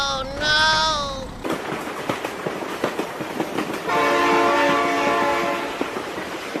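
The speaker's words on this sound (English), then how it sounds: "Oh my God, train." A train rushes past in BeamNG.drive with a strong horn blast, loud rolling clatter and a second sustained horn, while an excited voice reacts over it.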